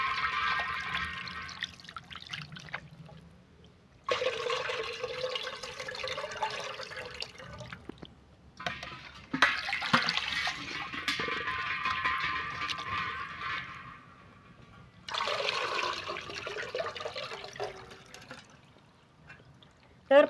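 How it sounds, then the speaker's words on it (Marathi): Raw chicken washed with water in a bowl, several bursts of splashing and sloshing water separated by quieter gaps, close by, with a voice talking at times. "चिकन छान धुवून घ्यायचं आहे आपल्याला"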